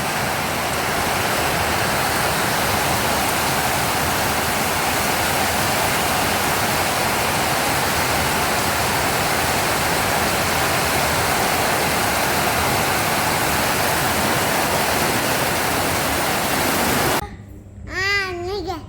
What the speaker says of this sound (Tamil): நல்லா மழை கனம்